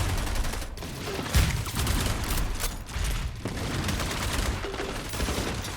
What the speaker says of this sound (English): these are some big gunfights coming out right here